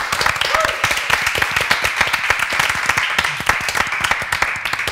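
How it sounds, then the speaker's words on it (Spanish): A studio audience at a gay comedy show claps with distinct, fairly rhythmic hand slaps that blend into a steady round of applause. "Un aplauso."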